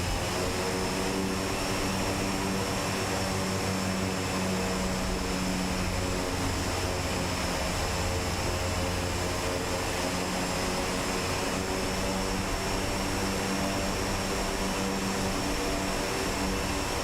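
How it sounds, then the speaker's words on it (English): ATR 42 turboprop taxiing in Microsoft Flight Simulator 2024, a steady loud propeller and engine drone with a constant whine, unbroken and close throughout with no talking. "We're gonna turn this aircraft around, ladies and gentlemen."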